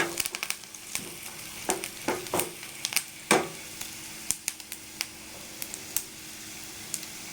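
Food frying in a pan gives off irregular sharp crackles and spattering pops over a faint background hiss, with no talking.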